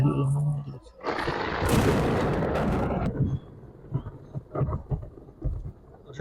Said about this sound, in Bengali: বজ্রপাতের শব্দ শুনলেন